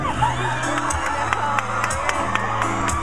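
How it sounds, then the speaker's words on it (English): A concert crowd at a show in Woodlands, Texas, cheers in a steady roar, with sustained high screams and whoops from fans rising above it at moderate distance. "that kind of a scream is from a female fan"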